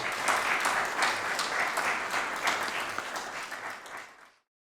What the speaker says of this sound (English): I would like a round of applause for my teachers at GWAMA in the academies